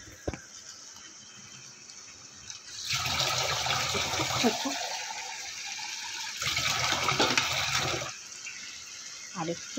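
Water poured into a cooking pot of fish-head and potato curry, a broad pouring splash in two bursts, moderately loud and close, with quieter kitchen sounds between.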